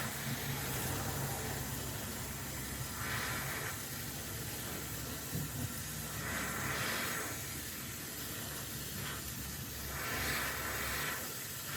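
A torch flame heating a metal pipe on a Gator 50 to cherry red roars with a broad, steady hiss that swells and eases in slow waves, close and continuous.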